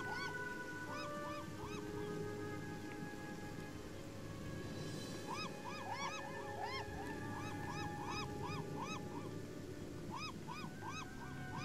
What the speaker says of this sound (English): birds hanging out on the rocks